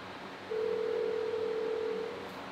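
A phone rings on an unanswered call, one long steady ringback tone heard through the handset, lasting about a second and a half over a faint hiss, with no one picking up.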